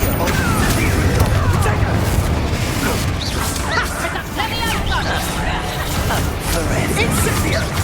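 Hogwarts Legacy spell combat: fiery Confringo and Incendio blasts pop and crash in a dense, loud barrage, mixed with clattering impacts and busy game noise throughout.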